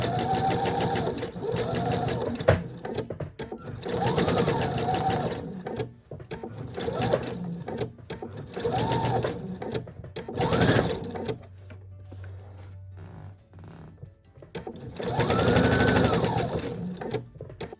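A sewing machine set to needle stop down stitches around the curves of a stuffed toy in short stop-start bursts of motor whirr. A voice talks between and over the bursts.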